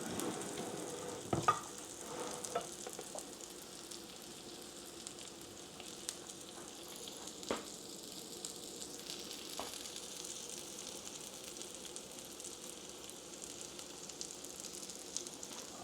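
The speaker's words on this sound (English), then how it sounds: "Y'all see how it's sizzling up right there?" Soft, steady sizzling of buttermilk pancakes frying in a pan, a continuous low crackle with a few small pops, no talking.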